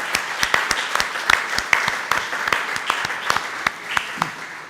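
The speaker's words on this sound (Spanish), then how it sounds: "yo creo que un aplauso para Antonio Roma está justificado" An audience at a national numismatics congress applauds a speaker, a dense burst of many hands clapping close and steady for several seconds before thinning out.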